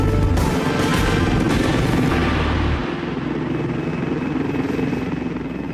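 An air ambulance helicopter out in a threatening rainstorm gives a loud, steady rotor and engine roar with low thumping, easing slightly partway through and continuing without speech.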